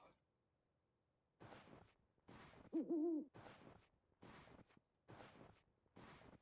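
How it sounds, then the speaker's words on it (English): An owl hoots in the video game UnReal World, set in the Finnish marshes, a single low hoot heard amid sparse bursts of noise and rustling, fairly close but quiet overall. "We heard another owl."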